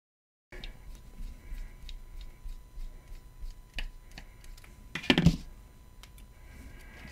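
A screwdriver works out the three screws securing a camera lens bayonet mount: small, close metallic ticks and clicks of the driver turning in a quiet room, with one louder scrape of handling midway.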